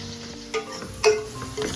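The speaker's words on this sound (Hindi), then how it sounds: "मैं अभी जैसे कि प्याज गोल्डन कर रही हूँ" Onions frying until golden in a pan for an aloo baingan curry, a steady soft sizzle with occasional stirring scrapes and clinks close by, no talking.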